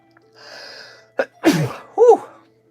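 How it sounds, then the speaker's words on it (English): A single loud sneeze with a sharp intake of breath beforehand, close up, followed by a short exhale; otherwise quiet. "I got to sneeze."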